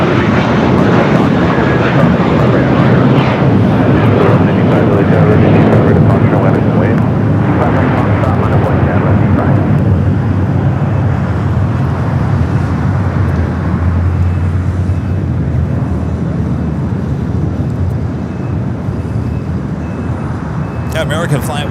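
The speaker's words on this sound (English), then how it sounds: "American flight was the flight heading to Raleigh-Durham, flight 2396, A321." An American Airlines A321 departs LAX bound for Raleigh-Durham, its loud broad jet roar strong at first, then slowly fading as the aircraft climbs away, with a steady low rumble underneath.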